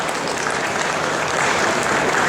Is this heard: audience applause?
yes